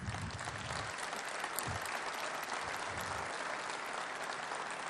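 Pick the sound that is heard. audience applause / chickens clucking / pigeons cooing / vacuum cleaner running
audience applause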